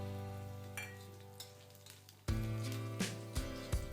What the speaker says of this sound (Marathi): साईडला करून झालं की यामध्येच 4-5 लसूणच्या पाकळ्या आणि 1 इंच आल्याचे काप